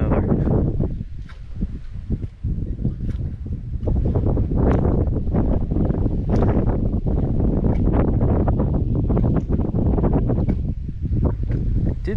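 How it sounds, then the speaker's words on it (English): Strong wind gusts buffet the microphone beside a canal spillway in Cape Coral, Florida, with a loud, continuous roar and low rumble that rises and falls throughout. "windy as always. Always windy over here."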